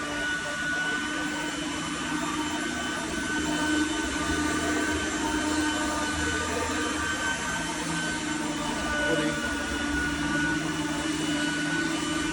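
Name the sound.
upright vacuum cleaner running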